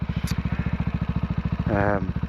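CCM Spitfire motorcycle engine running steadily while riding along country lanes in the South Lakes, a loud, even rapid thumping exhaust throughout with a brief rise in revs near the end.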